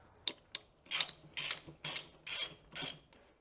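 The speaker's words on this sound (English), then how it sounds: "I've put those small bolts in and just snugged them up just a hair" Small bolts on the ram cylinder cover of a David Brown tractor are snugged with a ratchet: seven close, crisp clicking bursts in an even rhythm with short gaps and no talk.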